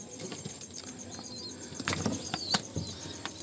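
Pigeons at a home loft flap their wings in a few quick bursts, with light clattering flutters close by against a faint background hum.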